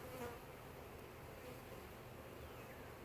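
Honey bees buzz around an open hive during an inspection after a swarm, a steady, soft droning hum of many insects with occasional louder passes near the microphone, faint and continuous, no voices.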